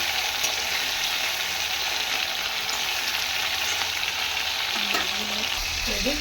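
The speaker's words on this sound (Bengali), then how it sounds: "তোমার তেলটা গরম হয়ে গেছে, মাছগুলো ভেজে নেব" Prawns fry in hot oil in a pan, producing a continuous, close sizzle and crackle at a steady level, with a few faint clinks and tonal bits near the end.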